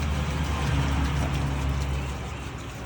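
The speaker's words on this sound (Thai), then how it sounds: "นี่มีน้ำตกเอ้ย ไม่ใช่น้ำตกพูดผิด น้ำพุน้ำพุ" Indoor fountain in a restaurant with green decor and plants, giving a steady, even rush of splashing water that holds at a constant level throughout.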